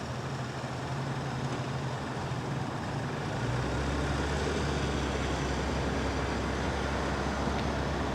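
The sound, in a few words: Genesis GV70 moving backward under remote automatic parking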